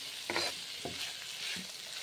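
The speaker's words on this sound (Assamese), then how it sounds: "মাংসখিনি মই ভালদৰে ভাজি আছোঁ।" Pigeon meat frying in oil with onions, a soft steady sizzle broken by three distinct stirring scrapes of a spoon against the pan, fairly quiet and close, with no talking.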